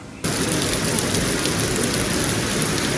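Heavy monsoon rain pouring down on a flooded outdoor film set in Maharashtra, a loud, dense, continuous hiss of downpour that starts abruptly and runs without pause.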